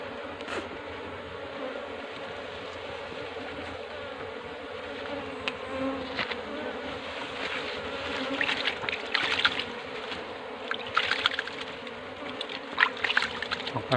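A honey bee colony being moved, its insects buzzing in a steady, dense drone close by that swells louder and more agitated toward the end, with a few sharper passes of individual bees.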